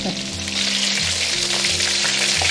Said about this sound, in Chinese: 油温升到7、8成热，我们再放上去复炸个30秒左右。